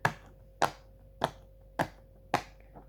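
Five sharp pops sound one at a time at a steady, even pace as bubbles on a Pop it fidget toy are pressed, close and crisp against a quiet background.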